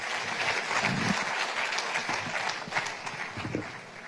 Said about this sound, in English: Ladies and gentlemen, another round of applause for their excellencies.